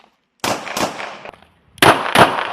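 A CZ 75 Compact 9mm pistol fired left-handed at a shooting range gives loud, sharp close reports in two quick pairs with a short quiet gap between them.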